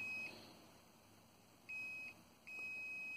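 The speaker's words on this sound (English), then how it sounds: "you can see that it beeps, indicating there's a voltage present" A Fluke VoltAlert voltage tester gives quiet, thin, high-pitched beeps, first a short one, then a longer tone, then a sustained one after a brief gap, over faint room hum.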